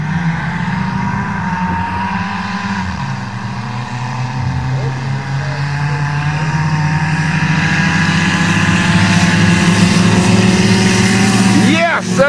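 A Dodge and a Toyota Celica GTS with a 2.2-litre 16-valve engine drag racing in a field: a steady, droning engine roar that slowly builds and holds loud throughout, with a voice talking over it.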